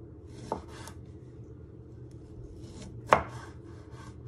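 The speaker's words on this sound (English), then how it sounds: "You just want to chop them down the middle. And then you just want to chop them into three." Kitchen knife chopping tomatoes on a cutting board while preparing a Mediterranean chicken tray bake, two distinct close cuts with a quiet gap between them and faint rustling around them, no talk.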